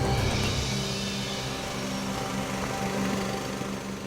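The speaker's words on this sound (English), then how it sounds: "Birthday boy got the compressor running." The compressor engine on a heavy recovery truck runs steadily, a loud, close, continuous mechanical drone with a low rumble and no talk over it.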